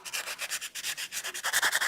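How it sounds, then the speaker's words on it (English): Hammered metal for a wire-wrapped pendant being sanded by hand with 800 grit wet-dry sandpaper: quick, close, rhythmic back-and-forth rubbing strokes in a steady series with no talking. "give a nice sanding to the metal"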